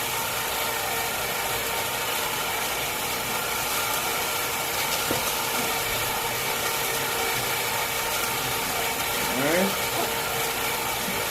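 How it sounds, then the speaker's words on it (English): Ice cream maker churning coffee-flavored egg-base ice cream in a canister packed with ice and salt, a steady rattling, grinding mechanical drone that runs continuously at an even level, with a brief spoken word. "we are going to continue letting our ice cream churn for the next 15-20 minutes again"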